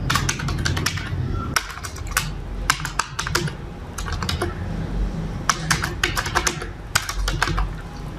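Keys clack in quick bursts on a computer keyboard as a name is typed, with short pauses between runs of strokes against a steady low room hum.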